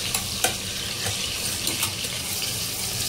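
Sliced onion and curry leaves fry in a pan for a Mangalorean chicken sukka, with a constant sizzle and a few sharp stirring clinks close by and no talking.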